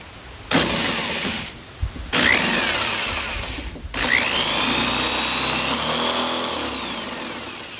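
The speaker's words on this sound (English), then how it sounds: "We'll drill those holes, get these other things in place, these other bolts" A power drill bores holes during a racing lawn mower build. It runs in loud whirring bursts with short pauses between them, and the pitch rises and falls as it bites into the metal.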